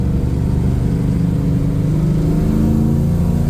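A 1969 Camaro Super Sport engine pulls in second gear under light throttle, a loud steady low drone heard close up from inside the car with no talking.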